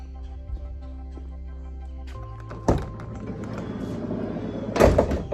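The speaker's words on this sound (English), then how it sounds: "Big sliding door, you know, big opening, very convenient." The big sliding side door of a Winnebago Solis camper van rolls open with a thud, a sliding rumble and a final heavy clunk against a low engine-like hum.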